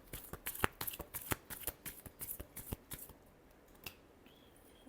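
Tarot cards are riffled and shuffled up close, a quick run of crisp snapping flutters that thins out into a few last taps.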